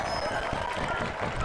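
Crowd cheering and applause in the Boom Blox Bash Party video game, a short, dense burst of clapping and cheers that swells toward the end.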